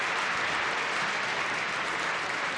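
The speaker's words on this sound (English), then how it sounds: "many are just standing here in Symphony Hall and applauding." Standing ovation from a large audience in Symphony Hall for Steve Jobs, a dense, steady roar of many hands clapping that stays loud and even throughout.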